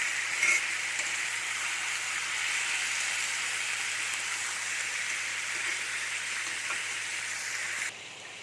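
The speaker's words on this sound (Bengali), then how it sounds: "দেখো, আমি চিকেনগুলো তেলে দিয়ে দিয়েছি, এবার একটু নাড়াচাড়া করে দেবো।" Chicken pieces fry in hot oil in a wok, a steady, dense sizzle running close and loud for the whole stretch, with a few faint scrapes of stirring before the sound drops away at the very end.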